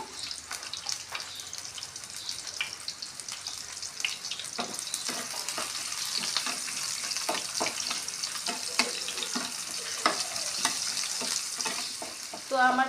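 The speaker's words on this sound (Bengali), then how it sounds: "তো তেলটা গরম হয়ে গেছে," Chopped onions fry in hot oil with a loud, continuous sizzle, and stirring scrapes and clicks recur throughout.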